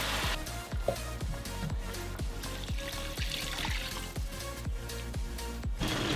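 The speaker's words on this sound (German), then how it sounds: "Jetzt, wo das Wasser kocht" A pot of water boils on the stove for spaghetti, giving a steady bubbling and rushing wash with regular soft pops, close and continuous throughout.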